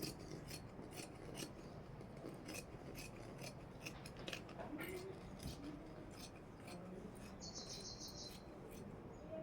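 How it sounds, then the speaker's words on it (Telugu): Scissors snip through dress-top fabric laid on a table, giving a steady run of close, soft rasping cuts with brief pauses and faint room noise underneath. "ఇప్పుడు మెయిన్ క్లాత్ మీద వేసుకొని కటింగ్ చేసుకుందాం"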